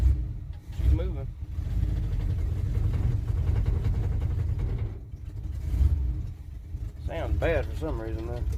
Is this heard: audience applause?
no